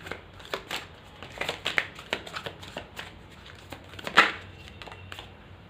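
Tarot cards are shuffled and drawn by hand, giving close, irregular bursts of riffling and snapping card slaps with quiet gaps between them.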